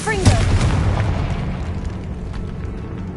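A Confringo spell explosion in Hogwarts Legacy, one sharp loud boom right after a shouted spell name, followed by a fading rumble and ambient game sound.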